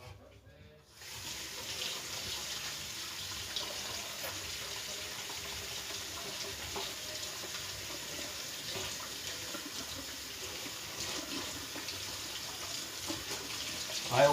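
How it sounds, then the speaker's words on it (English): Raw meat is rinsed under a running tap, a steady hiss of flowing water splashing into a sink, close and fairly quiet, continuing evenly throughout. "I'm just going to rinse this off."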